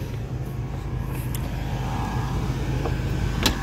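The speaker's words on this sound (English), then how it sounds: "you can hear that transmission. It's just what it is. So, it's just a loud-ass transmission." Steady engine drone of a 1995 Pontiac Grand Prix with a faint high whine from a loud transmission riding on top, constant and close, no voices.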